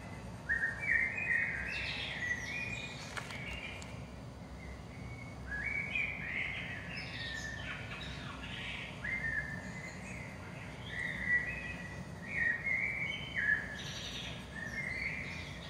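Songbirds chirp and whistle steadily as a background layer, with repeated bright tweeting phrases recurring every couple of seconds over a soft continuous ambient hiss, moderately distant and fairly quiet, with no talking.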